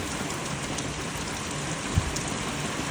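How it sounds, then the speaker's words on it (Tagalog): Heavy rain pours down outside in a steady, dense hiss, with one brief low thump partway through and no one speaking. "bumuhos na naman ng ulan"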